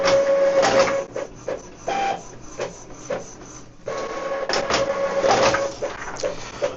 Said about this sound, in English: tap on print, and your document will be printed right away